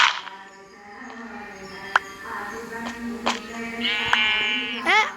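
A Minecraft sheep bleats in short wavering cries over a steady synthetic hum, with a few clicks and a voice speaking briefly.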